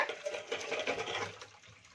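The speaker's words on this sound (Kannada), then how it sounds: "ಈಗ ಜರಡಿ ಮಾಡ್ಕೊಳ್ಳೋಣ ಅಂದರೆ ನೀರು ಸಪ್ರೇಟು ಖರ್ಜೂರ ಸಪ್ರೇಟ್ನ ಈ ಥರ ಮಾಡ್ಕೊಳ್ಳೋಣ" Water draining through a sieve as pressure-cooked dates are strained, a steady close rushing trickle that tapers off toward the end, with no talking.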